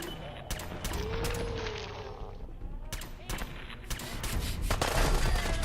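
Rapid gunfire rattles in the video game Glory to the Commonwealth, sharp repeated shots and bursts, mid-distance, with someone talking over the shooting.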